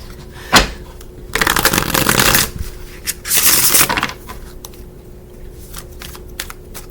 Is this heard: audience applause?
no